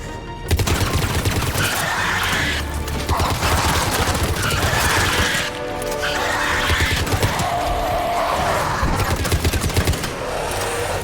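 Loud, sustained bursts of rapid weapon fire during a Mass Effect 3 battle on Omega, continuous rattling with heavy impacts and little letup.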